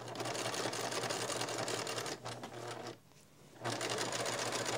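A sewing machine sewing quilt binding, a steady close rattling hum that briefly slows and pauses around the middle before running again at full speed.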